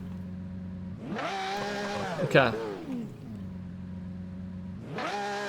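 A car engine in a driving video game, reported as starved of oil, revs up twice from a steady idle drone, rising and falling in pitch with a brief clatter in between, while a voice speaks briefly over it.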